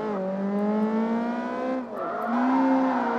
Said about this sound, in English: Handbrake.